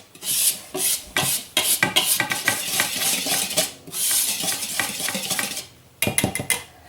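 A whisk beats flour and mixed spice together in a bowl for a ginger cake, rapid rasping metal strokes in loud bursts with brief pauses, close up and without speech.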